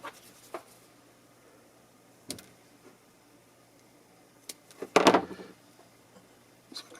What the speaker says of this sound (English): I'll just cut them a little shorter.